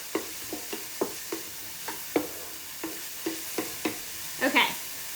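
Ground turkey sizzles softly in a pan while a utensil stirs it, about a dozen evenly spaced scraping taps over a quiet frying hiss, close up with no speech, a brighter clatter near the end.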